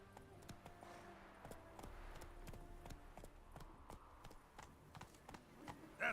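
Roach, the horse from The Witcher 3, trots along a road, her hooves clip-clopping in a steady, even rhythm for several seconds against a low, constant in-game backdrop.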